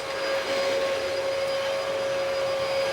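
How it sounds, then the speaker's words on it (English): A Hoover vacuum cleaner runs at home with a loud, steady motor drone and a high whine, unbroken and close throughout. "How the hell are you supposed to put a Hoover on when they're all sitting in there?"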